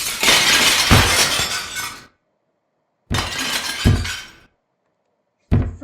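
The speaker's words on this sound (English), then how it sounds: "I can break the glass." Glass windows shattering in the video game Disassembly 3D, three loud close crashes with the first two followed by tinkling debris and short silences between.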